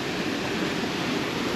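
Waterfall on the Bond Lake creek trail, a steady broadband rush of falling water that stays constant and fairly close, with no voices over it.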